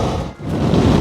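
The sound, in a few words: wind blowing head-on while riding a motorcycle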